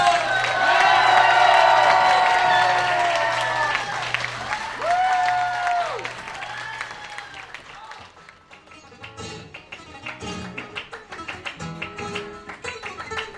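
A crowd bursts into strong applause for a flamenco artist, dense clapping rising as a sung flamenco performance with guitar fades out over the first half.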